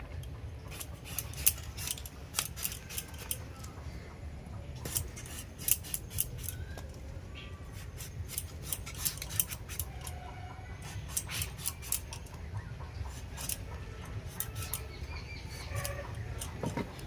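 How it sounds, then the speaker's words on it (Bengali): A bottle gourd is peeled with a peeler or knife, giving repeated short scraping and rasping strokes in a steady, uneven rhythm at close range, with no talking over them. "এইবারে আমরা ছালটাকে ছাড়িয়ে নেব এইভাবে"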